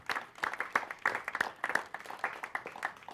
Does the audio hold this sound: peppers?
no